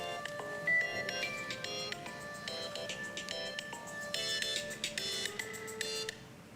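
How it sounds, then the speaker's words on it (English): Mobile phone ringtone going off in a council committee meeting, a melodic electronic tune of repeated bright notes playing for several seconds before cutting off, fairly clear in the room. "That's my phone."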